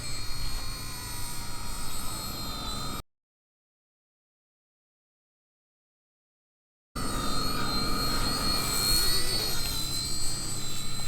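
A tiny RC ERA C032 1/48 scale Huey toy helicopter flies outdoors in wind, giving a steady high-pitched motor whine. The whine breaks off into several seconds of total silence, then resumes.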